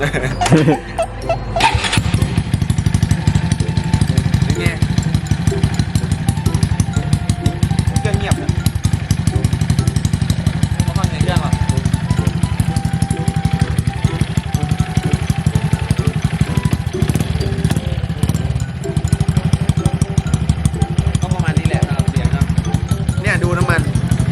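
A Honda Wave 110i 2021 motorcycle engine fitted with a 50 mm bore kit runs loudly and steadily, with a low throbbing rumble and occasional throttle surges, alongside an intermittent voice.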